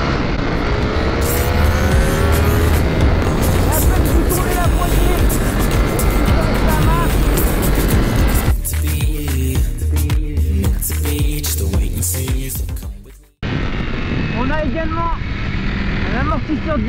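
A Ducati Panigale V4S motorcycle on a circuit revs hard, its engine pitch sweeping up and down through gear changes, loud and close, cutting out briefly before resuming; a voice talks over it.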